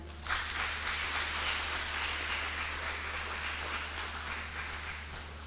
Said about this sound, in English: A hearty round of applause for our children.